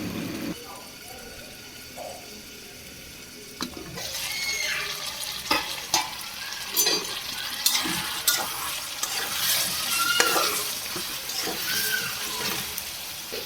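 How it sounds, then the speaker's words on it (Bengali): Potatoes sauté in hot oil in a pan, a quiet opening giving way to sizzling and intermittent scraping and knocks of a spoon stirring them, close and moderately loud. "আলুটা কষানো হলে আমি শাকটা দিয়ে দেবো।"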